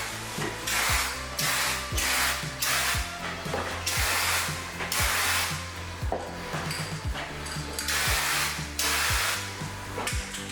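A paint spray gun lays coats onto a JDM Subaru in repeated hissing bursts, roughly a dozen evenly spaced passes. Each blast is loud and close, with brief pauses and soft knocks between them.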